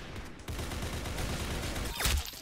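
Gunfire in the video game Arsenal comes as a quick string of rapid shots, rather faint overall, with a sharper burst near the end.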